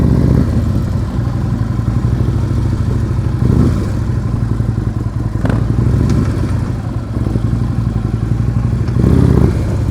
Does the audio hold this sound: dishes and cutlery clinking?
no